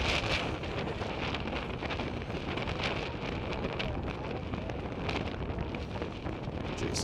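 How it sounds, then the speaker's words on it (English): Wind gusts buffet the microphone at an outdoor baseball game, a steady, loud rumbling blast of wind noise with no talk. "We got a gust of wind."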